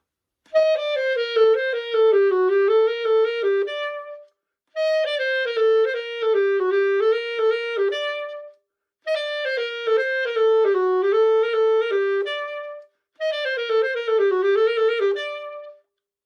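A saxophone plays four separate runs of quick notes in an uneven dotted long-short rhythm, each phrase followed by a brief pause, clear and solo.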